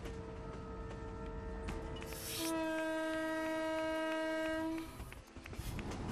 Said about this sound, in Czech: Vlaky po této trati převážejí zboží a lidi mezi říčními přístavy Brazílie a venkovským srdcem